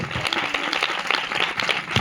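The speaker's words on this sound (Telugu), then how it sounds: "బిగ్గరగా చప్పట్లు కొట్టాలి అందరూ కూడా, బిగ్గరగా చప్పట్లు" A church congregation claps loudly and rapidly, dense overlapping hand claps close by for about two seconds, with a few voices mixed in.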